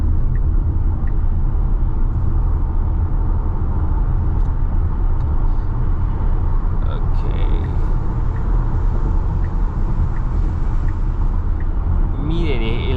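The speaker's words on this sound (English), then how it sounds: "Autopilot is merging on the freeway for me" A Tesla Model Y on Autopilot merges onto a freeway, giving a steady low road rumble and tire noise with faint creaks inside the cabin, loud and unbroken throughout, while a person talks.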